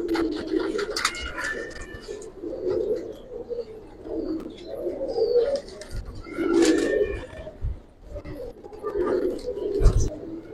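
Giribaz and racer pigeons, two males and two females, coo repeatedly and close by in low throaty rolling phrases that swell and fade over the whole stretch, with occasional scratching in the background.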